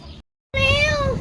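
A cat lets out a single drawn-out meow, close and loud, following a short pause, in a home kitchen where chicken is being roasted in a bucket oven.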